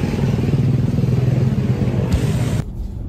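A motorcycle engine runs nearby with a steady, loud, chugging putter and faint clatter, holding for a few seconds before the sound cuts off and falls quieter at the end.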